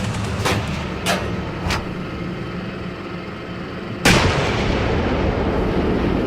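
Artillery fires in the tank simulation game Steel Beasts, with a few distant booms over a low rumbling background, then one louder close blast that leaves a sustained roar afterward.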